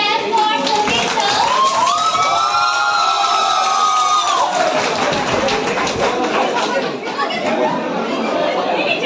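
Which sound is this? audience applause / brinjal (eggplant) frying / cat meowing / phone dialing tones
audience applause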